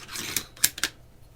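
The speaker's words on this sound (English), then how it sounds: "replace the bolt with the 22 conversion bolt" A .22 conversion bolt is fitted into an AR-15 pistol, making a few quick, faint metallic clicks and snaps spaced over about a second.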